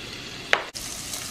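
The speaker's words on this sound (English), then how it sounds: "And you hear it sizzling away." Steady sizzling of guanciale frying in a pan, a soft continuous hiss with a brief clink near the middle.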